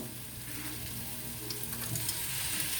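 Carrots and garlic hitting a hot pot of caramelized celery and onions for a pot roast, a steady close sizzle and frying hiss with faint stirring, no talk.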